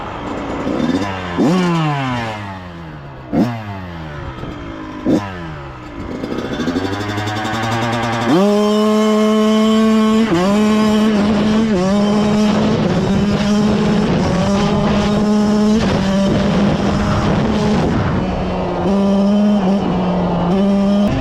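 Kawasaki KX112 dirt bike on soft dirt, engine revving in several short rising bursts, then a sustained loud wail as the rear wheel spins, close up and without talk.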